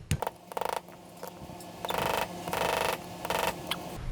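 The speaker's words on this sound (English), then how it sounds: "we're just going to punch these pins back in" A punch taps pins back into a charger extension spring assembly with a series of sharp metallic clicks and scraping bursts, close up and uneven in rhythm.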